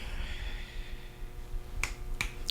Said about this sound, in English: I love the finger snap.